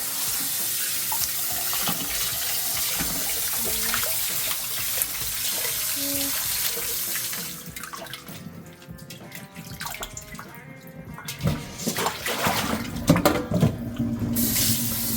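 Tap water runs steadily into a sink as separated bok choy leaves are rinsed, a continuous close gush that thins and splashes unevenly toward the end.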